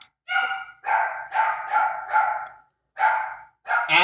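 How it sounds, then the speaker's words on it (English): Several dogs bark excitedly in quick, repeated bursts, loud and close, with short pauses between volleys and no talking over them. "I don't know why the dogs are going crazy."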